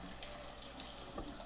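Tap water runs steadily into a sink while containers are rinsed for fabric dyeing, a faint continuous splashing with a small clunk near the end.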